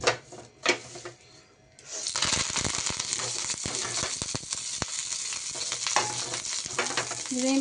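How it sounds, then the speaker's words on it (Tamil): Curry leaves frying in a ladleful of ghee for a curry leaf laddu: after a quiet start, a loud, steady close-up sizzle and crackle sets in and keeps going. "மிச்சம் இருக்கிற கருவேப்பிலையும் அடுத்து இன்னொரு கரண்டி நெய் ஊற்றி அதையும் பொரித்து எடுத்துக்கலாம்"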